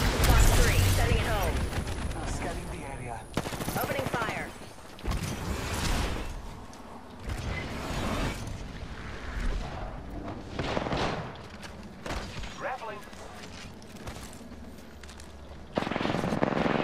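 Repeated bursts of automatic gunfire in the video game Apex Legends, loud close shots alternating with pauses and distant exchanges over about seventeen seconds, with players talking over the fire.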